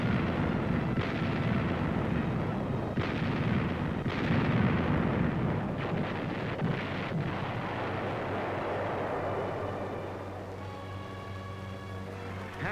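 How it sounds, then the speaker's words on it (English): Heavy naval guns of a World War II fleet pounding enemy positions, a dense, continuous low rumble of booms and blasts that stays loud throughout, with no talk. "the big guns of the fleet smashed enemy strongholds miles away"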